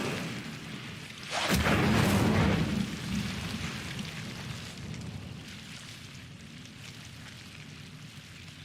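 Incendio fire spell cast in Hogwarts Legacy: a sudden whooshing burst of flame erupts, roaring loudly for about a second before fading into a lingering crackling rumble over steady background ambience.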